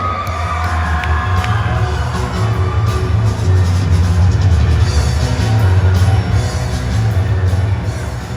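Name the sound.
audience applause and cheering at pageant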